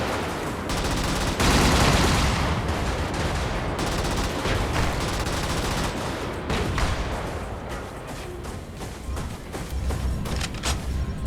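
Gunfire in the Brigador mech video game: dense, loud bursts of shots and explosive thumps packed closely together, an intense barrage that keeps up throughout with brief dips between volleys.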